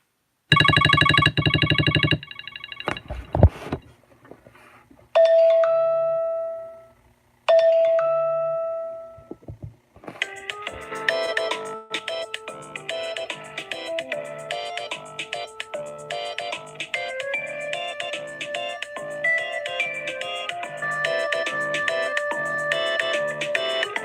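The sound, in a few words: phone ringtone playing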